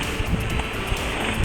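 A kayak runs rough whitewater rapids during a river race, with continuous rushing, churning water and wind buffeting the microphone, punctuated by small splashes and paddle knocks; no voices.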